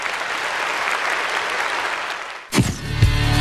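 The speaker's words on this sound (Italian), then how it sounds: "1, 2, 3, applauso." Audience applause on an Italian television format, a broad steady wash of clapping at moderate level that cuts off abruptly, followed by a louder tonal passage with music-like sound.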